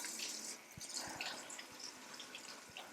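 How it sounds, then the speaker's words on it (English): Tap water runs steadily into a sink while hands are washed with soap, a continuous close hiss with small splashes and soft thumps of hands moving under the stream. "Off we go to our sinks and wash your hands."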